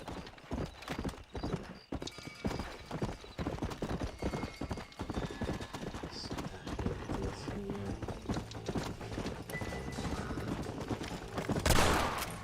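Rapid hoofbeats of a galloping horse in the video game Red Dead Redemption pound steadily throughout, with crackling bursts and a loud noisy burst near the end.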